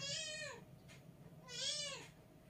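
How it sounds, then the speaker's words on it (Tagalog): Two drawn-out cat meows, one at the start and another a second later, each rising then falling, clear and fairly close over a quiet background hum. "Huwag maingay ang pusa."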